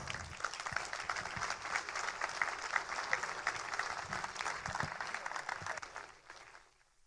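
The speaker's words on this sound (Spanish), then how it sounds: "Recibamos con un fuerte aplauso a María Elena Gallego" Applause from an audience at a business gathering welcoming a woman to the stage, a steady dense clapping that holds for about six seconds and then fades out.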